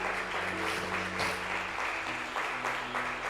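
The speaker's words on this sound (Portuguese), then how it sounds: "Pode dar uma forte salva de palmas para Jesus" A church congregation applauds, steady dense clapping from a crowd of many hands with a faint musical hum underneath, continuous throughout.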